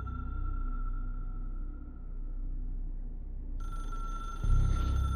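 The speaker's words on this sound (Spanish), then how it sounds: "lo que se escuchaba de fondo era el teléfono" A telephone rings in the video game Control, a steady electronic ringing tone sustained under a low rumbling ambient score that swells and brightens near the end, no voices.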